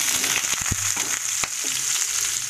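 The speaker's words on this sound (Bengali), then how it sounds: "তো তেলটা গরম হয়ে আসছে, কাঁঠালগুলো দিয়ে দেব" Boiled raw jackfruit pieces hit hot oil in a pan, giving a loud, steady sizzling hiss with a few sharp clatters and scrapes as they drop in and settle, close up with no talking.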